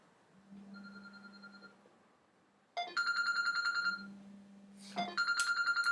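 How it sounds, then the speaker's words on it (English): A mobile phone rings in a quiet room: a soft first chime, then two louder bursts of a bright repeating electronic ringtone, alone with no talk. "my phone decided to go off"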